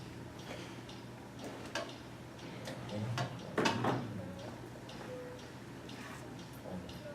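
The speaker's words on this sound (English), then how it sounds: "What is that mysterious ticking noise?" A mysterious ticking plays under a steady noisy background, with faint irregular ticks and clicks scattered throughout and a brief louder rustle near the middle.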